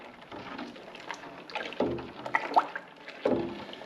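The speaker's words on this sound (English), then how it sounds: "And that gets a nice big stir." A pot of dissolving stout brew with lactose milk sugar being given a big stir, soft sloshing and swirling liquid sounds with a few gentle knocks against the pot, close and fairly quiet.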